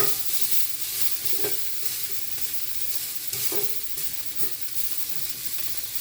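Asparagus hisses and sizzles in a frying pan as it is pushed around, with soft scraping stirs and a few light taps over a steady fry, close and fairly quiet.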